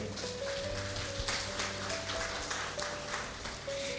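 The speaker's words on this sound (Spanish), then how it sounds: "Dale un fuerte aplauso al Señor." Steady broadband clapping from a large church congregation, sustained and even throughout, with a faint hum underneath and no voices.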